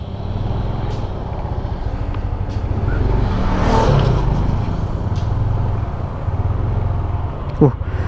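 A Yamaha All New Nmax 155 ABS Connected 2020 scooter rides off with a steady, moderately loud engine hum that swells briefly mid-way and then settles, ending with a short clatter.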